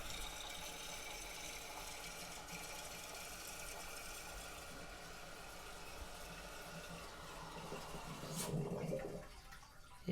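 A Toto Aquia II toilet tank refills through a newly installed fill valve, a steady rushing hiss of water flowing in, swelling near the end before cutting back as the valve shuts off.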